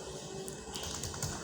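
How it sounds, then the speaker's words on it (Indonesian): Keys clatter on a computer keyboard while router configuration commands are entered, a steady run of soft, close clicks with no talking. "ini kita ketikkan saja"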